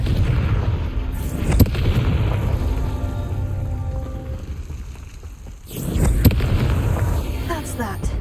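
A fiery spell explosion in the Hogwarts Legacy video game, a heavy booming blast with crackling debris, then a second rumbling burst that flares up near the end, loud and full against game ambience.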